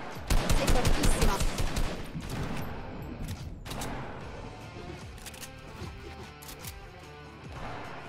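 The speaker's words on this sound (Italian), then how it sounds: "Qua si sparano, bastardi." Rapid automatic gunfire rattles in a Fortnite arena match, loud dense bursts at first that thin into scattered shots and softer distant fire, with a faint voice in the background.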